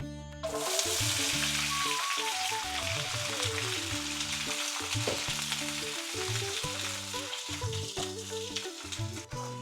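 Dry spices sizzle in hot oil for tempering while making paneer butter masala, giving a continuous crackling fry that runs throughout, mixed with melodic background music.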